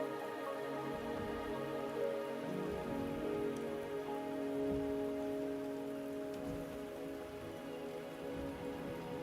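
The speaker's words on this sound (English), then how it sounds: "The rain is subsiding, and the sky will soon clear." Rain falls steadily in a video game, a continuous soft patter on surfaces with faint drops, held at an even level throughout with no voices.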